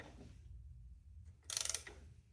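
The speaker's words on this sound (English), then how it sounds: "get my ratchet in here and tighten this bolt down" Ratchet clicks tighten a power steering pump bolt on a 2004 Honda Accord, a short quick burst of about eight close metallic clicks after a quiet moment.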